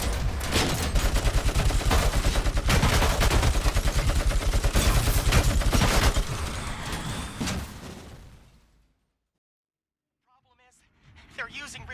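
Gunfire in Robocop Rogue City, loud rapid bursts of automatic shots hammering close by for several seconds, fading out into silence before a few faint sounds return, with voices talking over the shooting.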